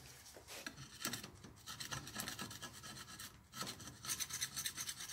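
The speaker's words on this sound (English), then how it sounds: "Let's get to scraping this crud." A metal scraper rasps old gasket material off the intake mounting surface of a 4.3 V6 Vortec engine, close and loud, repeated gritty strokes in an uneven rhythm with short pauses, no talking.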